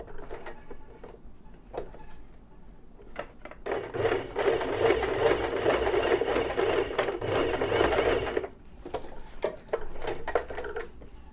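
A sewing machine stitches a shirt collar in one steady, fast mechanical whir of about four seconds, close and loud. Scattered clicks and fabric handling come before and after it.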